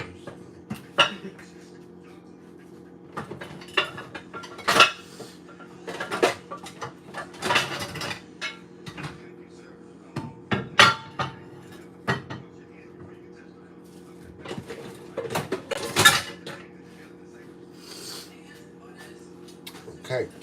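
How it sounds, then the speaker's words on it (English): Kitchenware clatters as someone rummages through a cupboard for a measuring cup: scattered knocks, clinks of dishes and cupboard bumps come in irregular bursts over a low steady hum. "Let me find my measuring cup first."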